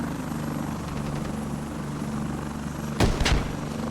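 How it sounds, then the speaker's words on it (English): Helicopter in the military shooter Squad, a steady rotor drone throughout with two sharp explosive bangs near the end, no talk. "Helicopter actually loses its tail rotor."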